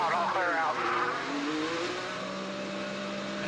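An IndyCar race car accelerates away from a pit stop at the Iowa Corn Indy 300, its engine note rising and sweeping past, loud under the excited voice of a commentator.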